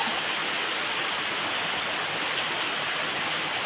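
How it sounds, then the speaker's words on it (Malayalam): Heavy rain pours down in a steady, dense hiss that stays constant throughout, with no other sounds breaking through. "നല്ല മഴയാണ് കേട്ടോ കൂട്ടുകാരെ"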